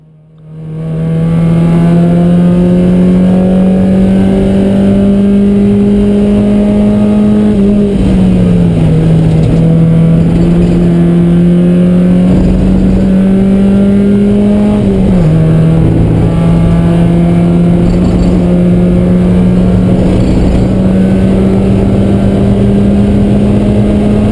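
Spec Miata race car lapping Road America, heard from inside the cockpit as a loud, steady engine drone whose pitch holds, dips with gear changes and climbs again, continuous for the whole stretch with no talking.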